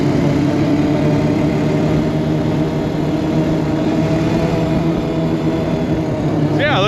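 An old Honda ATV engine revs steadily and loudly while the quad runs up through its gears at close to 30, a continuous droning roar filling the whole stretch, with a brief voice at the very end.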